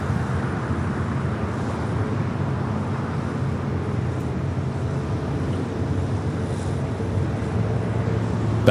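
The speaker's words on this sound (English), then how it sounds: "Back-to-back A380 arrivals there on the north side." Airbus A380 airliners arriving at LAX, a steady broad roar of jet engines that holds evenly throughout, loud and continuous with no talk.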